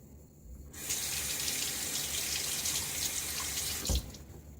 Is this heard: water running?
yes